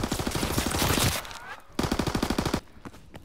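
Bursts of machine-gun covering fire in the Call of Duty WWII video game: two loud, rapid automatic volleys about a second long each, separated by a short pause, with no voices.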